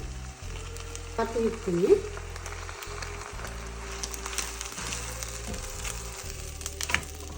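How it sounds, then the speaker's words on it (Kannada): Egg frying in olive oil with mushrooms in a home kitchen pan: a steady close sizzle runs throughout, with a short burst of louder spitting as the egg goes in, under a brief spoken phrase. "ಈಗ ಮೊಟ್ಟೆ ಹಾಕೋತಾ ಇದ್ದೀನಿ"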